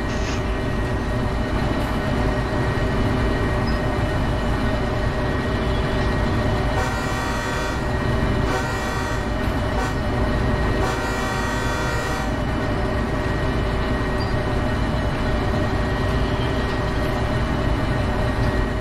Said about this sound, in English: we're going to have to wait for this entire train to go past this switch